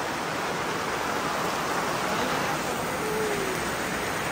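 Heavy rain pours during a storm in Rishikesh, a steady, dense hiss of downpour that fills the whole stretch evenly with no breaks and no voices.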